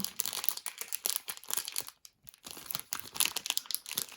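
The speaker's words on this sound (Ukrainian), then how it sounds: "тут так прям плотно заклеєний пакет що потрібно аж відривати" Close crinkling and ripping of a tightly sealed plastic bag from a cross-stitch kit in rapid bursts, a brief pause, then more tearing and rustling as the bag is pulled open.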